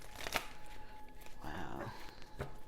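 Pokémon energy cards are shuffled and riffled by hand in short papery flurries, close and quiet, with a soft crinkle partway through.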